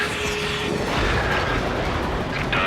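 A missile in the Ace Combat 7 flight game, heard as a loud, continuous roaring rush with booming rumble that swells and holds for the whole short stretch, with no voices.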